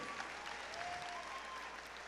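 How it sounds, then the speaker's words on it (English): Audience applause at a high school annual honors awards assembly, a faint, distant, even patter of clapping filling a large hall, with no voices over it. "we'll give her a round of applause"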